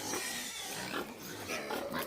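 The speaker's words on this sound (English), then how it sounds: "we got the pigs locked up over there in these pens over here in these corrals." Pigs in farm pens and corrals grunt and snort in a short, continuous run of low noises, fairly close and steady with no talk over them.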